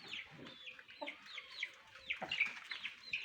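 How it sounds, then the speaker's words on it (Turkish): A mother hen clucks repeatedly in short, rising calls at close range while chasing her chicks, with no one talking. "Anne tavuk civcivlerini ayırdı artık. Onları sürekli kovalıyor."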